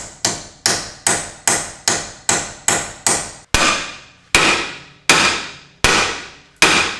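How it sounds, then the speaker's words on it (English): Hammer strikes drive a chisel into the front control arm of a BMW E53 X5, a quick run of about nine sharp metallic blows followed by five slower, heavier ones, close and loud with no talk. "I'm gonna try again to get a chisel worked into there."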